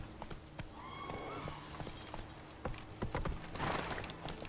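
Hooves of the horse Roach clip-clop along in The Witcher 3, with a brief neigh-like tonal call early on, heard at moderate distance with thuds and game ambience.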